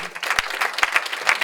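A festival crowd applauds the jury at a short film festival in Brive, with a dense, steady wash of clapping and a few louder individual claps standing out.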